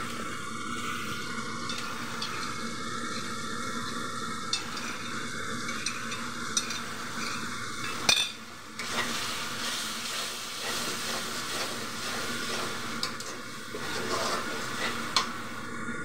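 Chili powder and spices fry in a pan for a Katla fish do-peyaja curry, a soft steady sizzle with repeated scraping strokes and clicks of a spatula against the pan, close and fairly quiet, no talking.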